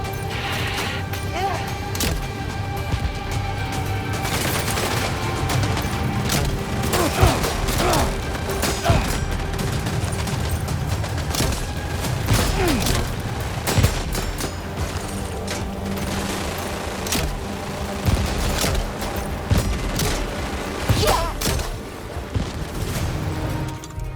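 Gunfire in the video game Death Stranding 2, a long busy stretch of rapid sharp shots, crashes and clanks, steady and close throughout with no talk.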